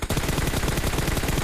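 Rapid automatic gunfire from the video game PUBG, a fast, evenly spaced burst of loud shots that runs without pause for over a second.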